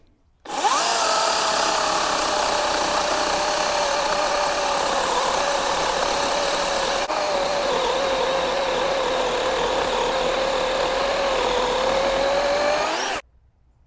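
A DeWALT 60V battery chainsaw with a 20-inch bar runs at a high, steady whine, starting abruptly and holding constant, loud and close, for about twelve seconds before cutting off sharply.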